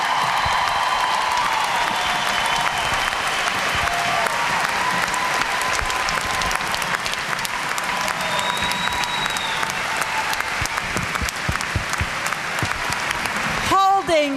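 A large convocation audience applauds in a dense, sustained wash of clapping lasting the whole stretch, steady and fairly loud, with a voice briefly heard near the end.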